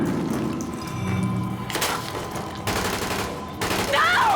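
Gunfire in the video game The Division, a few sharp bursts of automatic fire cutting through the background ambience, with a brief shouted voice near the end.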